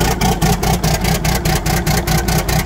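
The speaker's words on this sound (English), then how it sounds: "It does not like me when I cold start it." Ford CL9000 truck engine straining through a cold start on a frosty engine, a loud rhythmic chugging pulse repeating roughly every quarter second, with no voices.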